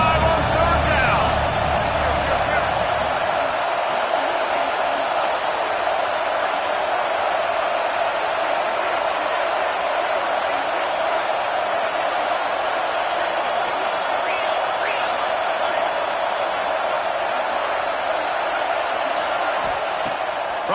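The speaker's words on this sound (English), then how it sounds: "The Buckeye crowd alive on third down." A packed Ohio State Buckeyes football stadium crowd roars on third down, a dense, steady wall of cheering and noise that holds at a loud level for the full stretch without letting up.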